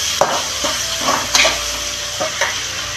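Green chillies and dried red chillies frying in a pan for uggani, a steady close sizzle broken by a few scraping stirs of a spoon against the metal.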